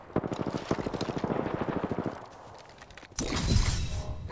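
Rapid automatic gunfire in Apex Legends, a fast rhythmic string of shots for about two seconds, a brief lull, then a louder dense burst of fire and impacts.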